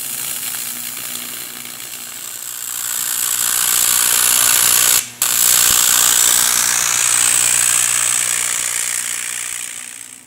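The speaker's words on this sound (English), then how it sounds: "Scott Etheridge here at RRC is going to TIG weld the end to the unit." TIG welding the end of a fabricated metal console block-off plate in a shop: a loud, steady electric hiss with a low hum that swells, cuts out briefly midway, then resumes and fades.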